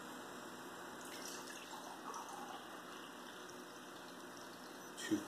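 Faint, steady hiss of water running from a kitchen tap into a container while measuring water for pizza dough, with a small clatter near the end.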